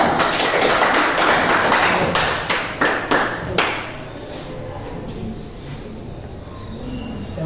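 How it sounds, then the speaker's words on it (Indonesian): Applause for group 2 in a classroom, a dense patter of many hands clapping loudly, thinning into scattered claps before fading under room noise. "Kasih tepuk tangan dulu"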